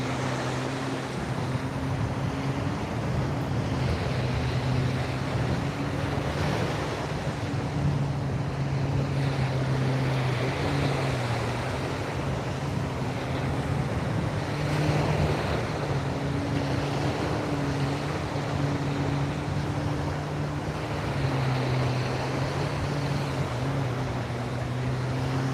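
Steady ocean surf rolls in continuously, a broad wash of water noise with wind and a low droning hum underneath, no voices.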